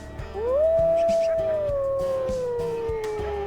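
Dogs howl in a wilderness survival video game, one long rising then slowly falling howl carrying loudly over a steady ambient backdrop, with other faint howls layered beneath.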